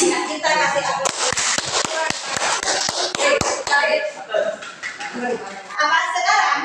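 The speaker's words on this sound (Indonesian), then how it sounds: "Ya, kita kasih aplaus." Schoolchildren in a classroom applaud, a burst of quick scattered claps mixed with children's chatter and excited voices, fairly close and lively before tapering off.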